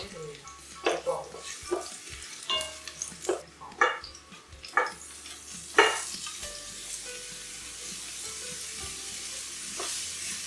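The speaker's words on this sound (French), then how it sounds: "Après, je fais suer les poireaux." Sliced leeks and garlic sizzling in oil in a pan, with a steady frying hiss and clinks and scrapes of stirring in the first half, then a calmer continuous sizzle.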